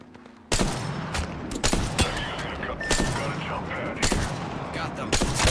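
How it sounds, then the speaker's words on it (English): Gunfire in the video game Apex Legends, heard as repeated loud bursts of automatic shots in quick volleys after a brief quiet start, close and dense, with faint game sounds between bursts. "I am taking fire, friends."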